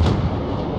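Warship guns firing in a naval battle game, a single heavy booming blast with a deep low thump that rolls off quickly, loud and close.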